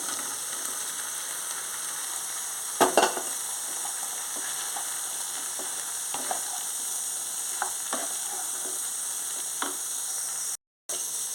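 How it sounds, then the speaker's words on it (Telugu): Ridge gourd pieces and tomatoes frying in a pan for a ridge gourd and bean seed curry, a steady close sizzle with occasional stirring clatters and a brief cluster of louder scrapes near the start. "టమాటీలు మగ్గిపోయి ఇప్పుడు మనం బీరకాయలు వేసేసుకుందాం బీరకాయ ముక్కలు వేసేసుకుందాం"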